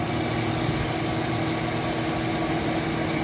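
An Emerson Quiet Kool window air conditioner runs with a steady, loud fan-and-compressor hum and broadband whoosh of air, unbroken and close by with no talking.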